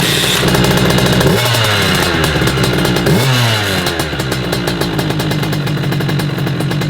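A Motobécane MA 50 moped engine fires up and revs loudly up close in two rising surges, then settles into a fast, buzzing, clattering run.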